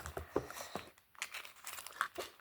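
Paper surprise package being opened by hand, with close, quiet crinkling, rustling and tearing in short irregular bursts.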